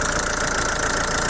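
A car engine runs steadily at idle, a continuous mechanical hum with a faint knocking texture, close by and with no voices.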